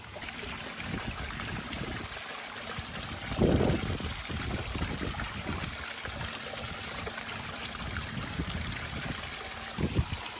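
Water and gravelly material splash and trickle through a small red gold trommel with an oscillating tray. The wash stays steady and close, with brief louder surges near the start and end, and no one speaks.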